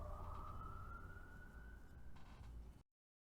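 A siren wails in the background of a recording, a steady, slowly rising tone over low rumble that runs for a few seconds and then cuts off abruptly.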